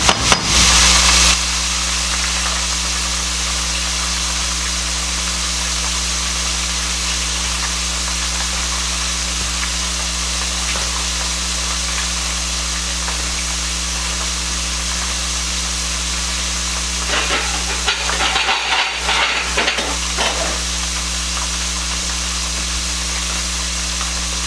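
Cajun-seasoned fish fries in very hot oil, giving a loud, continuous, even hiss that runs throughout with no talking.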